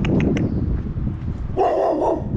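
A dog barks near a blue house on a neighborhood street, a few close, loud barks in a short burst, with outdoor background noise.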